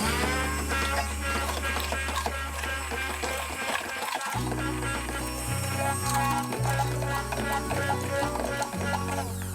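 An electric hand mixer whirs steadily up close, its motor hum dropping and shifting in pitch as it beats thick mayonnaise.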